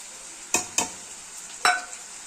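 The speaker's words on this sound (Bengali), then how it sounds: "ডুমু ডুমু করে যে আলুটা কেটে রেখেছি সেটা হচ্ছে দিয়ে দেবো, একসাথে ভাজা হয়ে যাবে।" Diced potatoes frying in a pan for an egg omelette curry give a steady soft sizzle, broken by three sharp, close stirring clatters against the pan.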